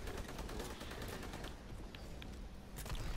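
Rapid gunfire from a Call of Duty WWII Zombies boss fight, aimed at generators, forms a dense, continuous rattle of shots throughout, loud and close with no pauses.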